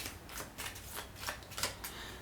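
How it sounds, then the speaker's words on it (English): Round end cards from a board game are shuffled by hand, a close rapid series of papery riffling bursts with no talking. "So we shuffle these round end cards,"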